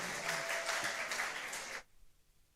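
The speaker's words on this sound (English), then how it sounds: "Please everyone gather up with a huge round of applause to welcome Miss Alice." Conference audience giving a round of applause to welcome a speaker, a dense burst of clapping that stops abruptly partway through, leaving quiet room tone.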